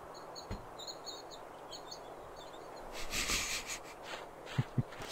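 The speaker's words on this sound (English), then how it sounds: "it's just birds" Birds chirp faintly in the background of the Siren Head video game, with soft repeated calls under a steady ambient hiss and a brief brighter burst of chirping partway through, followed by two low thumps.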